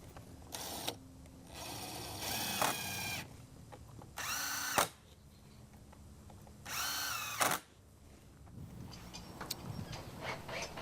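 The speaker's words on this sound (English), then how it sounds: "So AJ is screwing on the balusters onto the bottom rail at this time" A power drill drives screws to fasten balusters onto the bottom rail of a deck railing, whirring in several short, loud bursts separated by quieter pauses with faint background noise.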